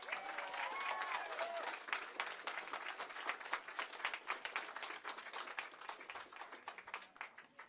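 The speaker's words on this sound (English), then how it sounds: "will you please give Anastasia another round of applause?" A campaign-event audience in Pennsylvania applauds steadily with dense, sustained clapping, a few voices calling out early on, the clapping holding fairly even throughout.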